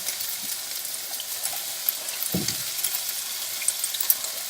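Diced onion frying with browning beef in a pot for beef stew, a steady close sizzle and crackle throughout with a brief stir or bump midway.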